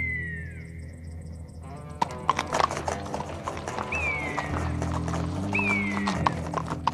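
Horses clip-clop in a cartoon Western setting, the hooves loud and rhythmic as they move off, with whinnies rising over the steady pounding and a few sharp knocks.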